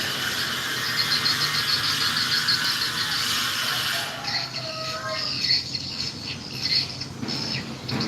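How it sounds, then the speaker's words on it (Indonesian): High, shrill chirping and squeaking calls from many swiftlets overlap in a dense chorus, thinning out partway through with scattered sharper twitters. "Ini suara burung walet"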